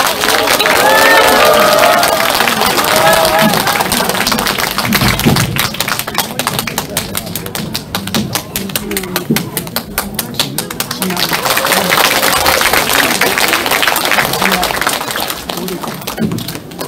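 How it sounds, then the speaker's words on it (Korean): Warm applause from an audience at a Korean political party's book launch as a retired general is called to the stage, a long, loud crowd clapping with stamps and thumps, a voice speaking at the start. "뜨거운 박수 부탁드립니다"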